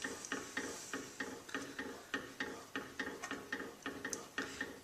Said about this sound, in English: And stir that all in.